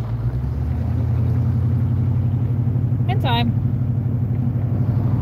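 A car engine running without its air cleaner, idling with a throbbing, uneven low rumble that swells slightly as it revs a little on its own. The sound is steady and close, and a short vocal sound interrupts briefly partway through.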